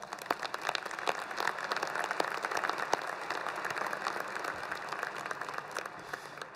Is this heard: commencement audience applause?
yes